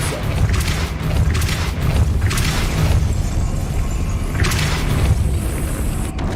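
Depulso spell effect in Hogwarts Legacy, a dense rumbling boom with repeated whooshing bursts over a constant loud low roar, with no talking.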